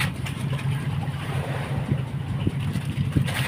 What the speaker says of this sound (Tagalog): Ang mga hangin dito sa laot guys ay amihan.